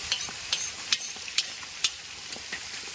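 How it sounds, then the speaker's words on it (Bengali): Fish frying in a pan for a Bengali katla fish curry, a steady soft sizzle broken by several sharp spatters and stirring clicks, close and fairly quiet, with no voices. "পাপাই মাছ ভেজেই চলছে, ভেজেই চলছে।"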